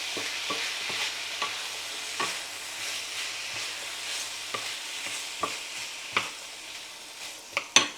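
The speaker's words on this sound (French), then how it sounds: "Donc on mélange tout ça." Ingredients for a pasta dish mixed in a large pot with a spoon, producing soft scraping strokes and occasional sharper clacks against the pot over a low steady sizzle, close and without talk.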